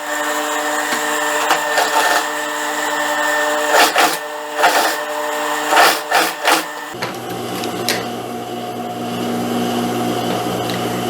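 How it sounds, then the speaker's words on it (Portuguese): A sewing machine runs steadily while stitching a seam that joins sleeve pieces for a dress, its mechanical whir clear and close, with brief bursts and pauses before the motor tone shifts near the end. "eu já vou passar uma costura, unindo aqui essas duas partes"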